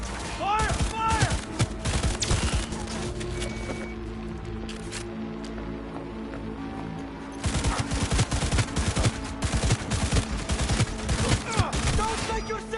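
Bursts of rapid gunfire in the video game Cyberpunk, dense clattering volleys near and loud, easing briefly mid-clip before resuming heavily, with shouting voices mixed in.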